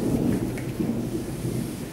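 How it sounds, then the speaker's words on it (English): Thunder from a storm outside rumbles steadily through the whole stretch, a deep, continuous low roll with a faint hiss of rain over it and no voices. "Don't know if you can hear the thunder and lightning going on outside."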